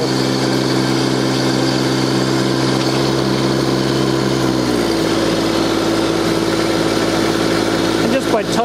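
A Kubota B Series tractor runs a Land Pride SA20 post hole digger auger, its engine droning steadily and loudly up close, with the pitch dropping midway as the load changes and a few rattles near the end.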